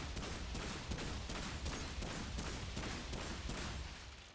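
Rapid gunfire from the Remnant 2 video game at a shooting range, a steady string of about a dozen evenly spaced shots, loud and close, with no talk over it.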